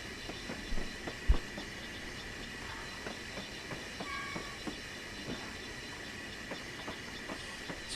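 A train in Train Simulator 2016 coming to a halt on a seaport line, with a steady low rumble, faint hiss and scattered soft clicks and clanks of rolling stock.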